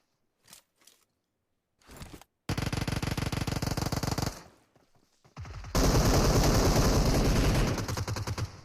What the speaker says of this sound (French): Vrats qui retombe à nouveau sous les balles de Rami